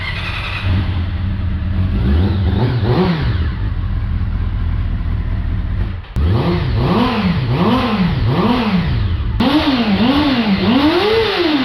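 A carbureted Honda CBR400RR NC29 with an inline-four 399cc engine revs loudly up close, rising and falling through repeated throttle blips with a brief pause before more rapid revving.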